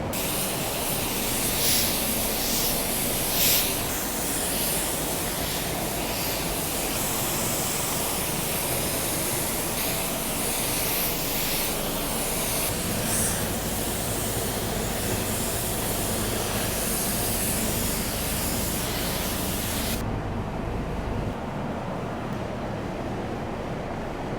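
A steady, loud paint spray gun hiss spraying sealer on a car runs continuously for about twenty seconds, then the high airy spray cuts off, leaving a lower rumble.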